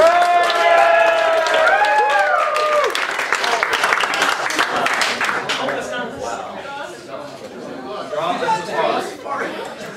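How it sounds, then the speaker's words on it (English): An improv show audience claps at a moderate level, with voices and cheers mixed into the opening seconds before the applause fades into scattered clapping and crowd chatter. "A moderate level applause."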